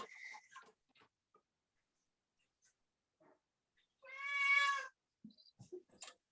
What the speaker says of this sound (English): whose cat is that?